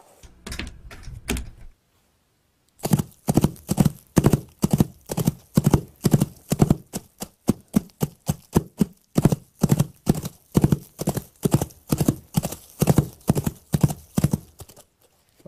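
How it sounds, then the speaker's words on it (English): Foley horse hooves made with patented hoof props, a steady trotting clip-clop of sharp, evenly spaced hits that starts after a brief opening burst and a pause, close and loud with no talking. "so I just laid down the horse footsteps"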